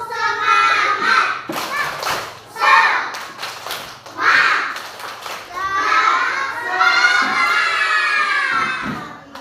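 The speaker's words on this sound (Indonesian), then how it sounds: "Coba tepuk semangat." A classroom of children doing a rhythmic spirit clap: bursts of clapping and loud chanting and shouting in several waves, with a teacher's voice between them.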